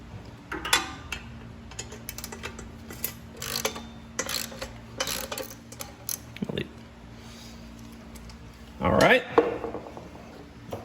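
Ratchet with a 13mm socket on an extension turning out a bracket bolt on a Fiat 500 Abarth, with scattered clicks and metallic clatter through the clip and a denser burst of ratcheting near the end.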